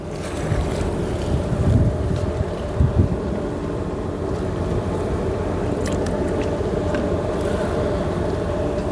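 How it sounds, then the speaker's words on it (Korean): A steady low engine hum heard from inside a boat, continuous and droning with wind and water noise layered over it, no talking. "이제 배 안에서 무슨 모터 소리 비슷하게 배에서 들리는 소리 같아요"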